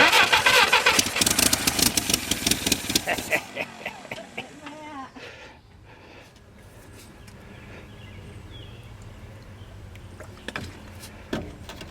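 A Willys Jeep engine cranks loudly and rhythmically for several seconds, sputters and dies, then quieter mechanical clicks and rattles follow at close range.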